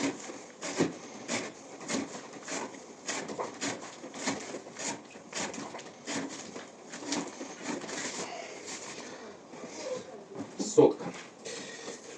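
A steel knife saws through rope in a sharpness test, with repeated close rasping strokes in an uneven rhythm and a sharper snap near the end.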